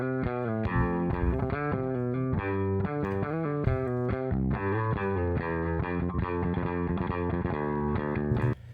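Bass guitar played through a basement in-house bass amp and cabinet, miked with a D112E, a steady run of punchy, thick notes with a slightly driven, gritty edge, even and loud throughout with no talking.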